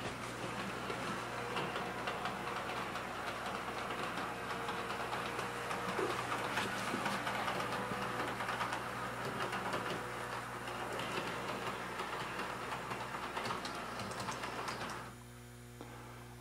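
A model train running on an automatic DC reversing shuttle track, a steady quiet mechanical whir with electrical hum that continues evenly before cutting to a lower hum near the end.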